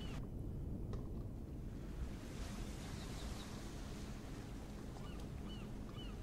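Ocean water and waves in the Empyrion survival video game after the player drops into the sea, a steady, fairly faint wash of surf and wind-like noise with no voices.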